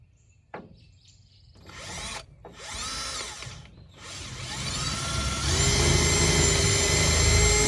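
A power drill pre-drilling holes in wood, starting with a short click and bursts of whirring motor that rise into a loud continuous high whine, close and without speech.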